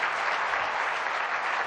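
Audience applause at the close of a presentation honoring Dr. Reisman: a dense, steady wash of many hands clapping, fairly close and even throughout, with no talking over it.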